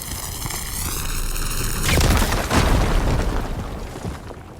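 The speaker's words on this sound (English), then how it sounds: "Should be able to blow up that fire gleam." A fire gleam blowing up in the video game Horizon Forbidden West: a loud booming burst follows a whining tonal rise, then a rumbling crackling blast that fades away over a few seconds, heard alone.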